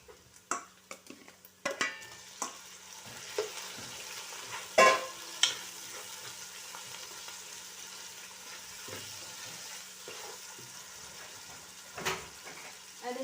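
Chicken pieces, washed with salt and turmeric, fry in hot oil in a pan for white sauce chicken pasta, giving a soft steady sizzle with scattered clinks and stirring knocks throughout.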